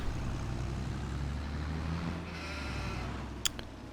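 Sheep in the Farming Simulator 22 game give a short bleat near the end, heard over a low engine-like drone of farm vehicles.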